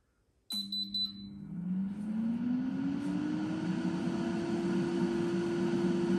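A Rawmid air fryer set to grill at 200 degrees gives a short series of electronic beeps, then its fan starts up and climbs into a steady, close whirring hum that holds to the end.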